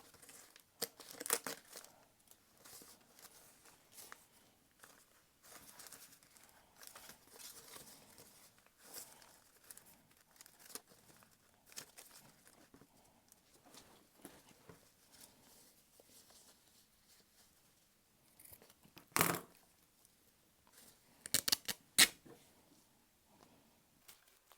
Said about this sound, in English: So I will tear this down a little bit.